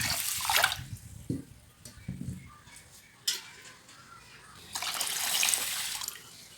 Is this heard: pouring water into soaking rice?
yes